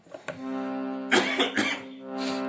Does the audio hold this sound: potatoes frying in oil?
no